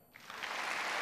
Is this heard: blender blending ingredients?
no